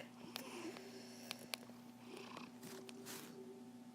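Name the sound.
cat purring on the desk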